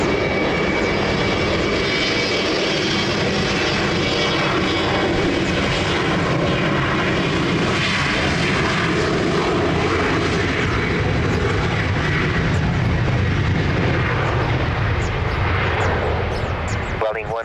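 An airliner landing at Lisbon Airport, with a loud continuous engine roar throughout, and voices talking underneath.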